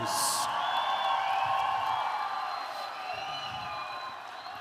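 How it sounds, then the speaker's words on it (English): A fight-night crowd at an MMA event applauding and cheering for both fighters, a loud sustained roar of clapping and whoops that fades slightly toward the end, with an announcer's voice over it. "a round of applause for both of these warriors"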